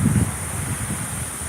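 Gusting wind from Hurricane Michael buffets the microphone outdoors in Tampa, Florida, a steady roaring rush with heavier low thumps at the start and no voices.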